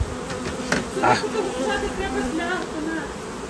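Honeybees buzz around an apiary during a spring hive inspection, a steady close hum with faint clicks and handling noises, while people talk in the background.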